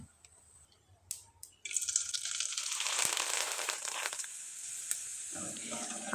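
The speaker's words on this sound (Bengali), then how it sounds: "একইভাবে কয়েকটা পিঠা আমি ভেজে দেখিয়ে দিচ্ছি" Flattened rice (chira) pitha frying in hot oil: after a few faint clinks, a steady bubbling sizzle starts abruptly and continues close and moderately loud.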